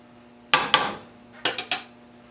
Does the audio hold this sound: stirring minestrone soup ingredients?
yes